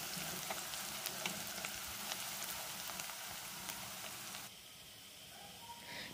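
Green onion stems sizzle in hot oil while being stirred in a pan, a dense, steady frying hiss with occasional spoon clicks that drops to a quieter crackle near the end.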